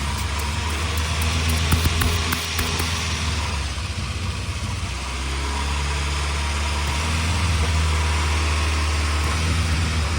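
A 1966 Morris Minor engine runs steadily with a loud low rumble and vibration, its tone shifting slightly partway through as a hose is tested, with no one talking.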